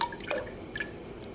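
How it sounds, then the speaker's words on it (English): Liquid drips and trickles in a yarn dye pot as a cup is rinsed in water near a black and green acid dye mix, a few faint, scattered drops over quiet background. "I am just rinsing the cup in the water there"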